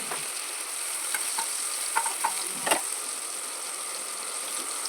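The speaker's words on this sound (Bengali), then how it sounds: "টমেটো দিয়ে দিলাম টমেটোটাও ভাজা হবে এই তেলে হলুদ নুনের তেলে" Oil sizzles steadily as tomatoes fry in oil with turmeric and salt, with a constant hiss broken by a few brief pops and scrapes of stirring.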